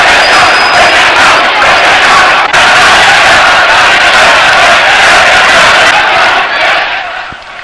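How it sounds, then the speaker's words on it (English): A massive crowd in the streets of the Egyptian capital roars and cheers continuously, loud and dense throughout, with shouts and whoops, then fades slightly at the end. "They are cheering this man."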